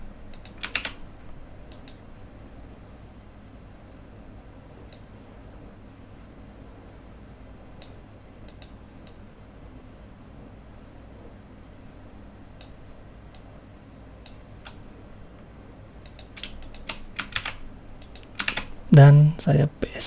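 A computer keyboard is typed on for copying and pasting, with sparse quiet key clicks across a faint room hum and a denser flurry of louder taps near the end.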